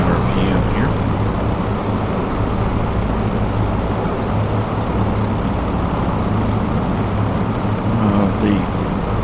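Avro Lancaster piston engines in Microsoft Flight Simulator drone steadily with a dense, even low roar, continuous and close throughout, with faint voice traces in the background.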